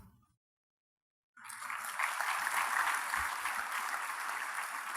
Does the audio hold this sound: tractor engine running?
no